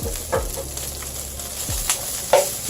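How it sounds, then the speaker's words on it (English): Freshly harvested greens sautéing in a pan, with a steady low sizzle broken by a few clinks and stirring knocks, close and alone without talk. "Now I'm going to saute the greens a little bit that I just harvested this morning."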